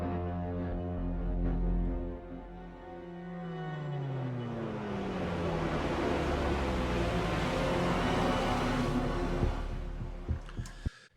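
Layered acoustic string recordings, heavily processed into an evolving sound-design texture with no synths, swell as sustained gliding harmonic tones over a deep rumble, loud and continuous, ending with a few sharp hits.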